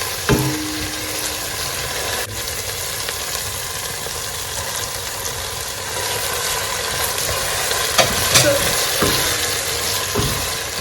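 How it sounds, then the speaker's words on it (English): Dawadawa and spices frying in a pan for jollof rice, a steady loud sizzle with intermittent stirring knocks and scrapes, a few louder clatters near the end, no speech. "we really have to fry this a little bit longer, so really to get the dawadawa and the spices to infuse"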